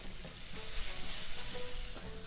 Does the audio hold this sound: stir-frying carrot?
yes